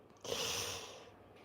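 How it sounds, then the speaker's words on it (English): A single short, breathy sneeze from a cockatoo, soft and close, fading over about a second. "what I've found out about these cockatoos, both of them, if you shine a light on them, they'll sneeze"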